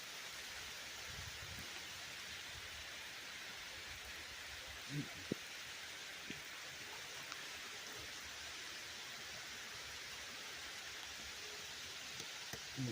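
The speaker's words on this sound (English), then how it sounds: "Rain kind of putting a damper on things today" Steady rain falling outdoors beside an old granite-block fountain in New England, a constant soft hiss with a few faint knocks and thuds.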